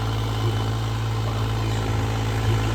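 A tractor engine runs at a steady idle, a close, continuous low drone that holds without change.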